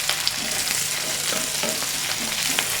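Onions and small shallots sautéing in a pan for a dry fish roast produce a steady, close sizzle with light crackling throughout.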